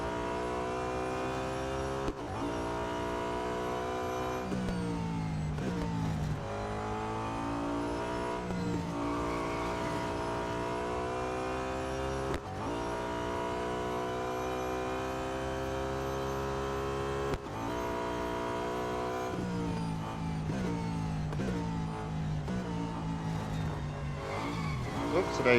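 Audi A5 DTM race car from 2012 screaming along in Real Racing 3, a steady loud engine drone with shifting pitch sweeps as it accelerates and changes gear, continuous throughout.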